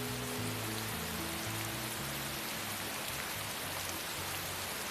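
Steady rain falls in a constant broadband hiss, loud and unbroken, with a low hum underneath and no voices.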